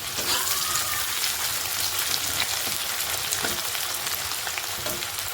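Onions fry in hot oil with a steady, dense crackling sizzle throughout, close and fairly loud, with occasional louder pops and no talking.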